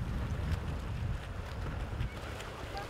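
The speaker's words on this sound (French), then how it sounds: "le vent s'est levé sur le lac de Serre-Ponçon" Wind blows across Lake Serre-Ponçon during a women's triathlon swim near Embrun, a steady, rumbling buffet against the microphone with gusty low-end noise throughout.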